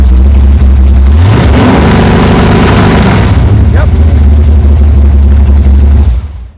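A car engine with an MSD Digital 6AL-2 two-step limiter fires up and revs to a steady, held 3000 RPM, a loud sustained drone that drops away at the end, with brief talk nearby.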